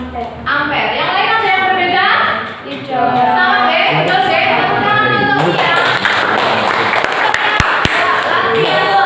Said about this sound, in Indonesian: Tepuk tangan untuk ya.